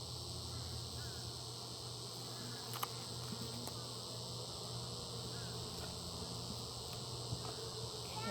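Honeybees at an open hive during an inspection give a steady, dense buzz that carries through the whole stretch, with a voice faintly present.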